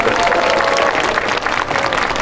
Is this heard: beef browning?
no